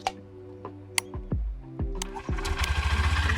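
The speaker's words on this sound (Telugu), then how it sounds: "మనం స్టార్ట్ చేసినప్పుడు బైక్ని సో సైలెంట్గా స్టార్ట్ అవుతుంది" A 2025 Honda Livo 110 motorcycle engine cranks with a few sharp starter thumps, then catches and settles into a quiet, even idle.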